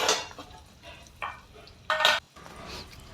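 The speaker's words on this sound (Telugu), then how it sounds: "ఆయిల్ వేడైన తర్వాత అందులోనికి ఉల్లిపాయలు, పచ్చిమిర్చి, అలాగే కొంచెం అల్లాన్ని దంచి వేసుకోవాలి." Onions, green chilies and crushed ginger fry in hot oil while being stirred, a soft sizzle broken by a few short scraping bursts of a spoon against the pan, close and fairly quiet.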